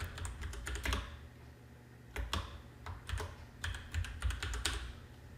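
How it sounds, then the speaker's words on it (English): Bursts of quick keyboard typing, clustered clicks separated by short pauses, close and fairly quiet with no voices. "Maybe it's because I'm typing too fast."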